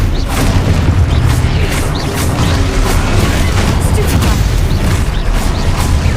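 Spell blasts in the Hogwarts Legacy video game, a dense run of loud booming bursts and crashes layered over continuous battle noise, with a voice casting spells at times.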